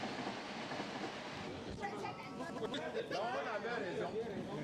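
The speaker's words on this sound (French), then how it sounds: "nous traversons en métro une partie seulement de la ville de Tokyo" A Tokyo metro train rumbles along with steady broadband rail noise and faint clatter, passengers chattering in the background throughout the ride.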